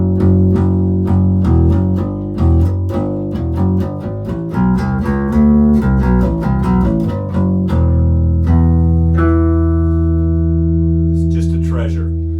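A 1964 Gibson Thunderbird II bass with aged nickel roundwound strings plays a busy run of plucked notes, then settles into sustained ringing low notes, up close and alone with no voices.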